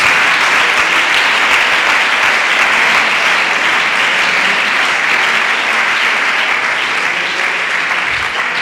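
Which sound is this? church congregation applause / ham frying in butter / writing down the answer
church congregation applause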